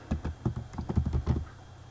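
Rapid keystrokes on a computer keyboard while entering a material opacity rule in software, a close, dry burst of about a dozen clicks over a second and a half, then quiet.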